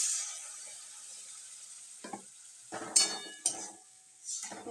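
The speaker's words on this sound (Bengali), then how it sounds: "একটু সামান্য জল দিয়ে এটাকে একটু কষতে দেবেন" Capsicum paneer curry cooks in a pan, giving a faint steady sizzle with a few scraping stirs of a spatula in the second half, and no voices.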